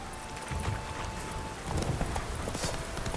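Hooves of Roach, the horse in The Witcher video game, clip-clop in a quick, regular galloping rhythm that carries on throughout over a soft game ambience.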